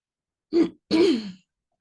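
Two quick, harsh throat clears close to the mic outdoors, a short one then a longer rasping one, with silence around them.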